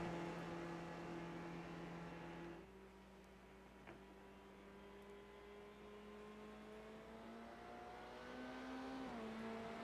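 Racing cars from the iRacing video game at Circuit de Barcelona-Catalunya rev in a demolition derby, a faint steady engine drone with shifting tones sitting under a low hum, with no talking.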